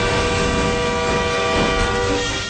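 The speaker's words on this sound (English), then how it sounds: "the train crushes the truck," A CT&N train sounds its horn in a long sustained blast over heavy rumbling rail noise, loud and close, while the collision with a stalled semi truck happens.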